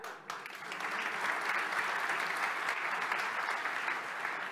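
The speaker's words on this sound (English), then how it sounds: "It's a sad state of affairs when plugging in a HDMI cable gets us a round of applause." Sustained audience applause fills a keynote hall at a .NET developer conference, a steady dense roar of clapping from a large crowd, holding evenly at moderate loudness throughout with no talk over it.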